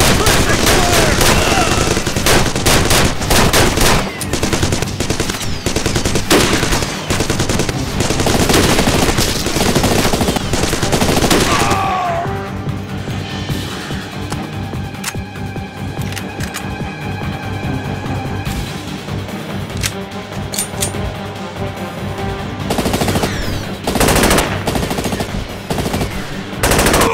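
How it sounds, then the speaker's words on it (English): Suppressing fire in the video game SAS: Secure Tomorrow: loud, dense automatic gunfire bursts rattle continuously, then ease into steady rapid shots with game ambience, with no pause in the shooting. "Get ready! Fire! Suppressing fire!"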